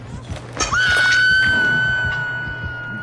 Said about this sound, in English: Meg screams really freaking loud